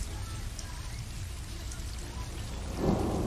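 Steady rain patters and hisses evenly in the video game Stray, with a soft low rumble near the end, heard alone without voices.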